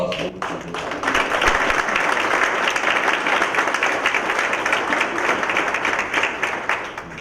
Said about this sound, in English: please give Rob and our finance director a round of applause